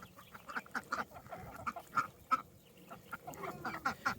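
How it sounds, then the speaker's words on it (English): Ancona ducks quack repeatedly at water, a rhythmic series of nasal calls, some close and some overlapping, at moderate volume outdoors. "Now the ducks have found some water."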